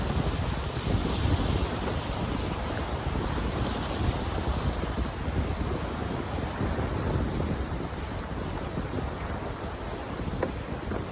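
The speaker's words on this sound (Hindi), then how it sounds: "नीचे बहता पानी है." River water rushes beneath a bridge in Ladakh, a loud, continuous broadband roar with wind buffeting the microphone and no voices.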